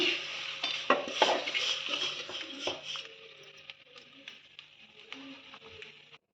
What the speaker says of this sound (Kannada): ಅದನ್ನ ಇವಾಗ ಇದಕ್ಕೆ ಹಾಕಿ ಮಿಕ್ಸ್ ಮಾಡ್ಕೊಳ್ಳೋಣ.